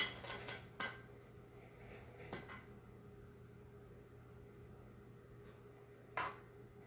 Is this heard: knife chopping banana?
yes